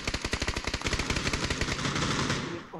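Automatic gunfire in PUBG: a rapid, even stream of close shots rattles on for most of the burst, then trails off near the end.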